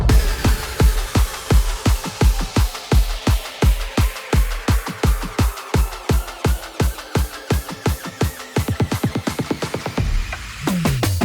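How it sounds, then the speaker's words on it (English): Electronic build-up drums with effects in a melodic drum and bass track: rapid, evenly spaced hits that quicken and thicken toward the end, swept by rising filtered noise, loud and continuous. "I use sick build up drums with a bunch of effects."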